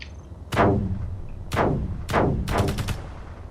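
Rifle gunfire in the video game Space Engineers: several loud, sharp shots ring out with decaying tails, single reports first, then a rapid burst of four near the end.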